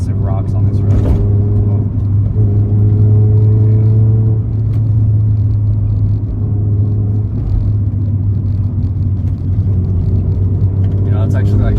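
Honda EK Civic driving a rocky mountain touge road with heel-toe rev matching, a steady loud cabin engine drone with brief rev blips and pitch shifts between gears, close and continuous.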